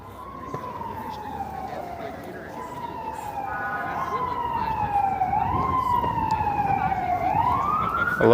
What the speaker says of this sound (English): And of course, sirens. It wouldn't be a Toronto stream without those.